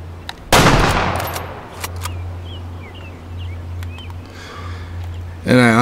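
Single loud rifle shot at a whitetail deer in the hunting game Way of the Hunter, a sharp crack with a rolling echo that fades into quiet outdoor ambience with faint birdsong.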